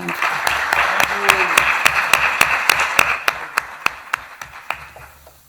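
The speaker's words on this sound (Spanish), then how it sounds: "Un aplauso, por favor." Audience applause at an Urban Skills conference talk on graffiti, a room of clapping that starts dense and gradually thins to a few distinct, loud individual claps before fading out.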